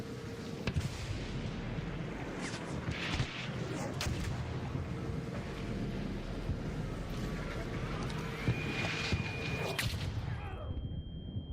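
Rocketeer rocket explosions in the Arc Raiders shooter land as heavy booms and sharp cracks over dense, continuous battle noise, loud and close, ending in a sudden cutoff.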